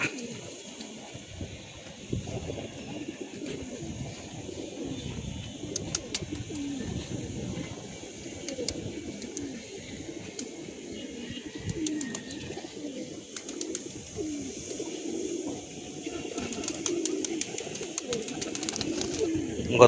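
Domestic pigeons in a loft, including red-necked and silver-necked birds, coo steadily in a soft, continuous chorus at close to middle distance, with occasional wing flutters and light background noise; no one speaks.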